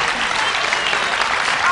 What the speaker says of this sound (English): And a big applause for our helper right over here.